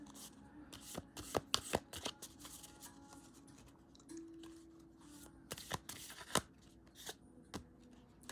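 Tarot cards shuffled and drawn by hand at close range, a steady riffle of dry papery rasps broken by sharper snaps and slaps as cards are pulled, quiet and uninterrupted by speech.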